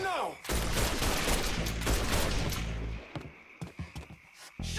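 Loud, dense automatic gunfire in Mafia 3 roars steadily for about three seconds, then breaks into a few scattered single shots and clanks.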